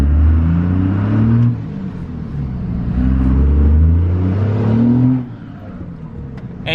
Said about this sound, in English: you can actually hear the turbo and everything like that for being stock